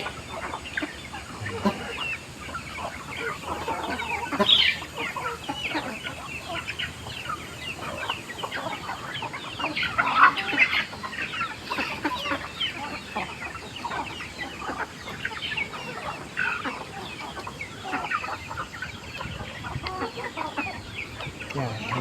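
A flock of chickens clucking and chattering continuously nearby at feeding time, with occasional louder squawks rising above the busy background.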